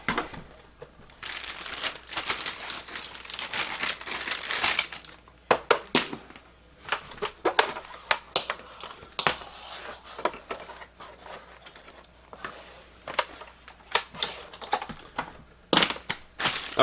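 Plastic packaging from a two-player bartop arcade kit being handled and crinkled nearby, giving bursts of sharp crackling and rustling with scattered clicks and pauses, no voices.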